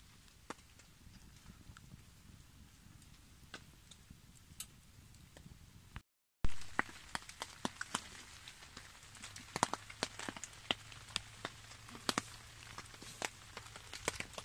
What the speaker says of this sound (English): Oh, still raining.